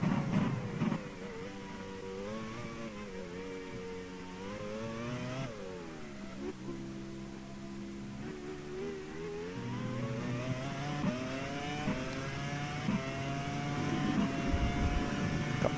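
Onboard engine of a 2002 F1 car in a racing video game at the French Grand Prix, a high whining pitch climbing repeatedly through gear changes, loud and continuous with brief dips at each shift.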